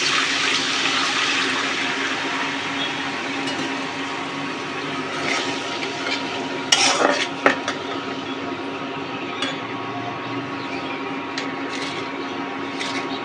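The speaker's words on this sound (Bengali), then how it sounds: "এখন আমি এখানে পানি দিয়ে দিব একটা পরিমাণে।" Water pours into a hot pan of onions fried light brown for a Bengali rui fish curry, a steady broad rushing splash across the whole stretch with a brief louder burst of clatter midway, no voices.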